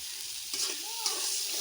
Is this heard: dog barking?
no